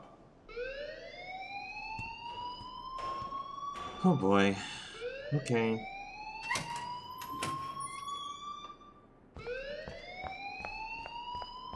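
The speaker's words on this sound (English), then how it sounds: "please turn off that alarm since that's your job" A rising, wailing fire alarm repeats in the Life Is Strange video game, each sweep climbing in pitch, while a voice speaks briefly over it midway.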